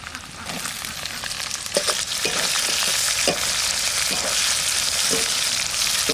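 Thin raw mango strips fry loudly in hot oil, a dense continuous sizzle with repeated scraping stirs of a spatula close up.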